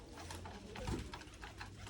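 Pigeons cooing on a rooftop loft, a soft low coo rising once near the middle over a faint steady outdoor background.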